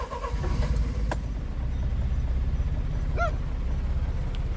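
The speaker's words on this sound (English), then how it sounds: "we'll start the truck again after it's been running." A mini truck with starting trouble idles with a steady low engine rumble throughout, after a brief click at the start and a short chirp later on, with no voices.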